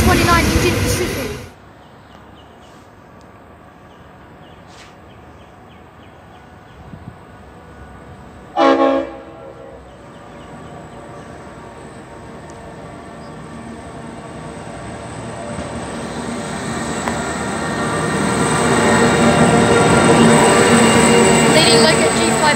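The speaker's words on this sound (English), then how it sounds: "Leading loco is NR67. Followed by AN9 and NR29 Indian Pacific." Indian Pacific passenger train led by locomotive NR67, followed by AN9 and NR29, rumbling past at a station; a brief loud burst near the start and a short horn-like tone midway, then a steady rising roar as the train draws closer.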